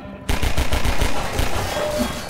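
Rapid automatic gunfire in Half-Life 2 that breaks out suddenly after a brief quiet moment, then rattles on loud and close in a fast, steady stream.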